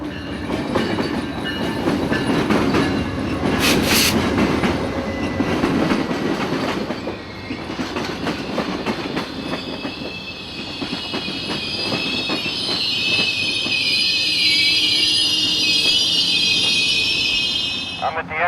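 Amtrak 91 passenger train passing on rails near Winter Haven, Florida, loud and close, with a rumbling roar, rhythmic wheel clicks and high squealing wheels toward the end, and a voice talking over part of it.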